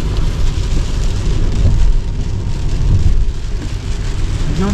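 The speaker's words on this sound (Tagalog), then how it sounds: "lakas ng ulan, oh" Heavy rain pounding steadily on a car on a mountain road, a dense, loud, continuous roar with low rumble throughout and no voices.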